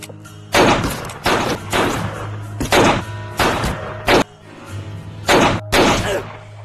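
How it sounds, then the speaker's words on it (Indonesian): A film shootout outside a toilet produces six or seven loud, evenly spaced gunshots, each a sharp punchy blast with a brief tail, over a low steady background hum. "Chris yang tiba di depan toilet melihat Selena sehingga adu tembak pun terjadi di sini"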